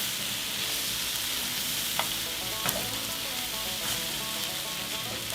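Scrambled eggs fry in a pan over an open flame, a steady, dense sizzle that runs throughout with a few faint pops and scrapes.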